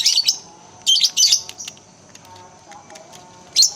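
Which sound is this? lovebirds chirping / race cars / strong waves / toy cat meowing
lovebirds chirping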